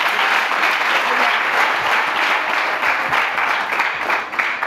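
A church congregation applauds together at a Thursday testimony service, steady dense clapping filling the room for the whole stretch without a break.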